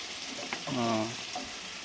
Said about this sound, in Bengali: মাংসগুলো ততক্ষণ ভাজা হোক